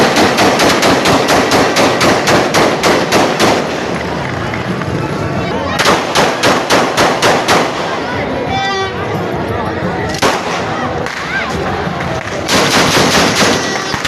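Celebratory aerial gunfire on Independence Day night in Karachi: rapid bursts of loud automatic shots in long rattling runs, pausing and resuming, with crowd noise and voices between the volleys.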